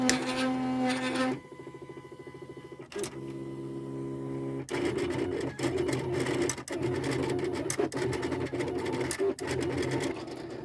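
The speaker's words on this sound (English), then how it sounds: "So now the machine is about to cut it out." A home vinyl cutting machine slices an HTV design, whirring in bursts of motor buzz and carriage movement with brief pauses, near and steady.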